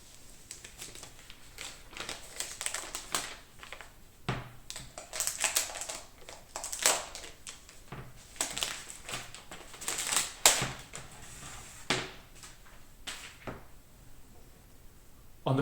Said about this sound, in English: Lastly, let me unwrap the iPad.